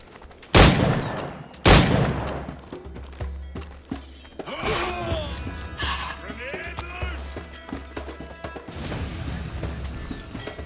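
Gunfire aimed at an enemy during a sword fight in Assassin's Creed Black Flag: two loud, sharp shots near the start, then clashing, mechanical noise and game sounds under a talking voice for the rest.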